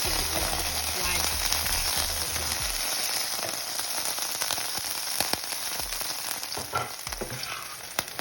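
Onions, garlic, and red and green peppers sizzle and crackle in a pasta skillet, a steady close frying hiss with occasional stirring scrapes and a low hum under it.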